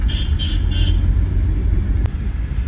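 A car drives along the road up to Kailasagiri hill in Vizag. The low rumble of its engine and road noise stays steady and close throughout, and a faint high whine sits over it.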